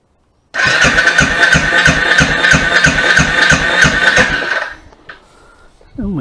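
A 2018 Royal Enfield motorcycle with a faulty decompressor roars at wide open throttle, a loud, steady pulsing single-cylinder drone lasting about four seconds, then dropping off sharply to a quiet idle.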